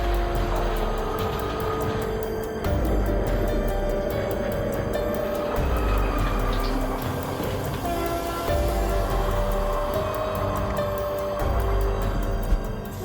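A train rolls closer with a steady rumble and repeated clacking of wheels on rail joints at a regular rhythm, loud and sustained throughout.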